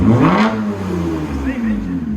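A Toyota Camry XSE with a 3.5L V6 revs through an aftermarket exhaust, a loud, close roar that rises and then falls, with voices heard over it.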